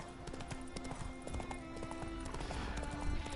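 Horse hooves clip-clop steadily in The Witcher 3, a brisk, even rhythm of hoofbeats set against the game's ambient background at moderate volume, with no talking over it.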